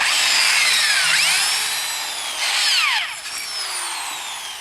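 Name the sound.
drilling pilot hole in metal end cap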